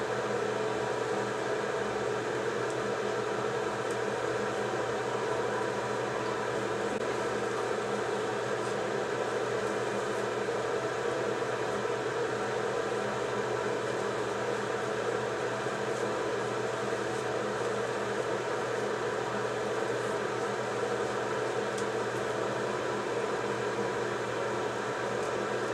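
A hair dryer blows steadily while hair is blow-dried, a constant loud whooshing hum that runs unbroken from start to finish with no talking.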